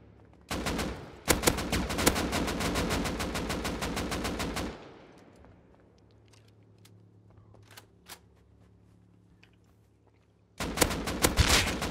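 Rapid automatic gunfire from the survival video game Rust, a loud sustained burst of dense shots for several seconds, then near silence with faint scattered clicks, before another loud volley erupts at the end.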